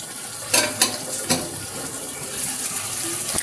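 Chicken and chickpeas roasting in a pan, a steady close sizzle with a few sharp scrapes of a spoon stirring through the mix, no voices.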